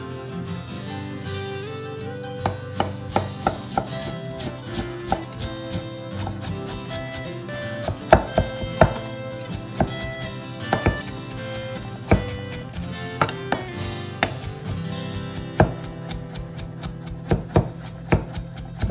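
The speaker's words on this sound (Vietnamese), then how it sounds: "Thì băm miếng gừng nữa các bạn." A knife chops fresh ginger on a cutting board for a Vietnamese duck dish, with steady repeated thuds, some sharper and louder, going on for the whole stretch against faint background noise.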